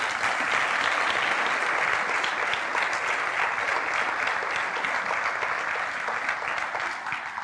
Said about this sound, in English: And I think that deserves a huge round of applause